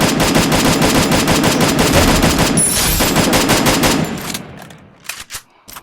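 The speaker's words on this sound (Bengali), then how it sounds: "সামনে একটা এনিমি দেখে আমি ফায়ার দিই" Rapid automatic gunfire from a shooter video game rattles loud and continuous for about four seconds, then cuts off, leaving a few scattered softer shots and game noises.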